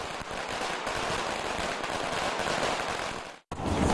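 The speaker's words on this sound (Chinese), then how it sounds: "Des pétards éclatent pour annoncer la fin de l'office." Firecrackers go off at the Shaolin temple to mark the end of a Buddhist service. A dense, rapid string of loud pops crackles continuously, breaks off briefly near the end, then resumes.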